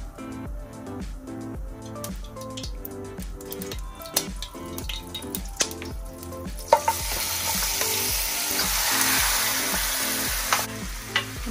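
Oil sizzles steadily in a pan with warmed tomatoes for a mutton curry, a dense crackling hiss that swells louder in the second half, with faint clinks of stirring and no voices.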